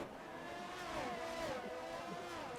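Formula 1 race cars in a racing video game at the Canadian Grand Prix, one overtaking another, with a steady engine whine rising and falling in pitch, continuous and fairly loud throughout.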